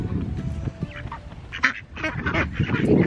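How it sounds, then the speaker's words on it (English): Ducks quack and honk excitedly while being fed, with a cluster of nearby calls and scattered squawks over outdoor background noise. "These ducks are crazy."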